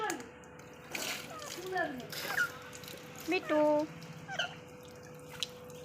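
Water is poured over a pet being bathed on a cold winter morning, with splashes and drips in short bursts, close by, under a person's talk and some squeaky calls.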